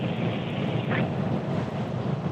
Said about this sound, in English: it's windy as frig out here